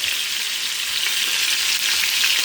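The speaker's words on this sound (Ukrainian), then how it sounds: "Зараз з однієї сторони смажу." Meat sizzles loudly and steadily in a hot pan, a continuous crackling hiss with no voices.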